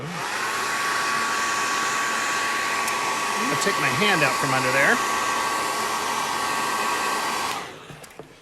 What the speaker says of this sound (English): now I'm going to go ahead and hit it with my hair dryer again